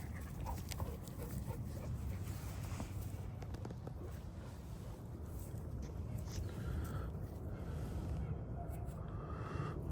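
Four dogs roam a farm paddock, their panting, movement and faint whimpers heard amid heavy outdoor wind noise, with some talking over the top.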